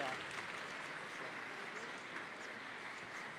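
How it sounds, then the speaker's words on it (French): A gala audience applauds Nicole Calfan in a steady, dense wash of clapping that holds evenly from start to finish at a moderate, somewhat distant level. "Que l'on peut applaudir."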